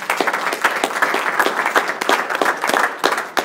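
Church congregation applauding for Jesus, a lively burst of many hands clapping in quick, uneven rhythm, loud and close, with scattered voices mixed in.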